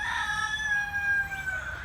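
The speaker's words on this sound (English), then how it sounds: "We have 8 chickens though" A rooster crows in a long drawn-out call, with other chickens audible around it; fairly close and clear, no voices.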